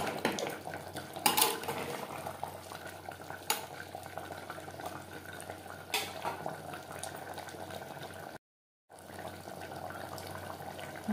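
Water goes into a pot of mutton and potato curry, giving a steady bubbling, watery wash with a few clinks of utensils against the pot.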